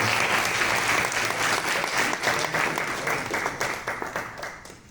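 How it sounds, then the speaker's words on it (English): Audience applause at a college road safety awards ceremony, loud steady clapping from a large crowd that carries through and tapers off slightly at the end. "You will please once again a huge round of applause for Kaisa Rahman"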